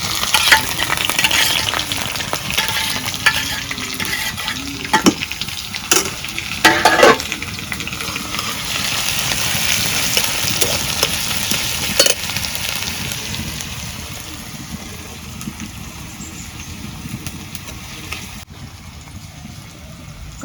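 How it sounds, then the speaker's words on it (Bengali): Chopped onions sizzle and crackle in hot oil in a wok, a loud, dense, steady frying hiss broken by scraping stirs that fades a little toward the end, with no talking. "তেল গরম হয়েছে, এখন আমি পেঁয়াজ কুচি দিয়ে দিই।"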